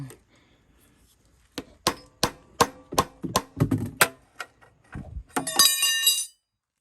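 A rapid series of light hammer taps on metal of a Honda lawn tractor, bright and ringing, ends in a burst of jangling, high-pitched metallic clatter.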